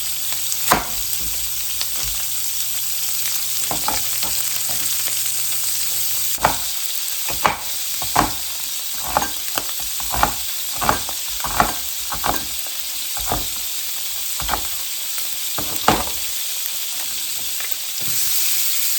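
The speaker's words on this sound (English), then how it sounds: "I'm going to put some butter in this pan" Butter frying in a pan, a steady sizzle with a broad hiss running throughout, punctuated by a dozen or so sharp clicks and taps of a utensil against the pan in the second half.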